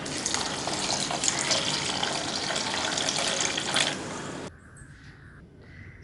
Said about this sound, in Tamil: ஒரு 4 டம்ளர் தண்ணி சேர்த்துக்கலாம்.